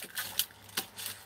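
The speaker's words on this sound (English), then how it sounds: "that was totally a bag of Haribo in the background" Crinkly plastic rustling in a few short bursts from a bag of Haribo candy handled nearby, soft and brief with no talking.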